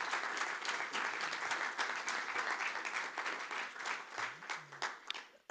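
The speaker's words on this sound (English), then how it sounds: "I think a round of applause to our panelists." Round of applause for panelists at an EU audit reform anniversary conference, close, steady clapping from an audience that thins and fades near the end, with a brief voice underneath.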